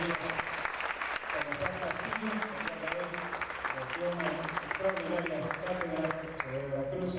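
Steady applause from a lecture audience, many hands clapping continuously at a moderate distance, dense and even throughout with a slight thinning near the end.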